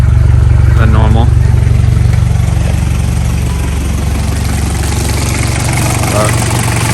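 A Toyota Prado 1KZ-TE diesel with a freshly installed cheap cylinder head runs with no muffler, a loud, close, steady idle clatter with deep throb, while someone talks briefly over it.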